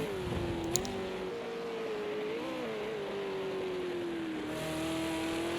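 V8 Supercars race car at Bathurst in a racing video game, its engine note a steady whine that holds and wavers slightly, mid-distance and moderately loud, with a brief click early on.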